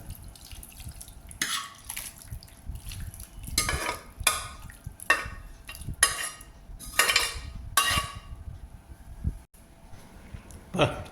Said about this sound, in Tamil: இப்போ இந்த மீன் குழம்பு வேறு பாத்திரத்தை மாற்றிக்கலாங்க